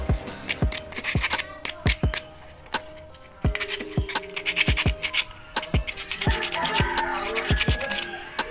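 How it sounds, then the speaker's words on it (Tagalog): Car battery terminal being scraped and sanded clean by hand, close rapid irregular rasping strokes with sharp scratchy clicks, growing denser toward the end. "Tanggalin itong terminal at liyahin lang po yan."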